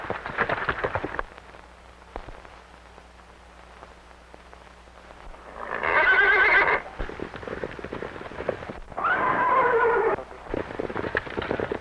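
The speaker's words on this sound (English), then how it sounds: "What a horse." A horse gives two loud, quavering whinnies a few seconds apart, with scattered hoof clops and crackly, rain-like background noise from an old 1934 western film.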